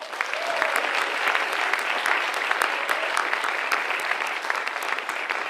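Steady, full applause from an audience at a college honors and awards ceremony, honoring academic team winners, sustained clapping throughout without pause.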